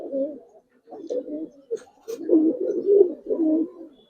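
Aluminium silver Giribaz pigeons coo up close in a run of throaty, broken phrases, loud against a quiet background, with short pauses between.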